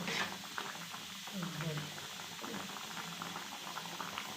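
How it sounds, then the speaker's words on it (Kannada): Okra huli saaru, a sour curry, bubbles in a pot in a short close-up burst of soft, irregular bubbling and gurgling, quiet, with a voice speaking over it. "ಸಾರು ಚೆನ್ನಾಗಿ ಕುದೀತಾ ಇದೆ"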